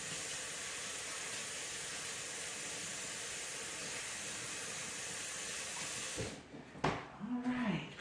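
Steady broadband rush of tap water runs continuously while hands are rinsed of sticky chocolate chip pumpkin roll dough, then cuts off near the end, followed by brief handling noises and a short vocal sound.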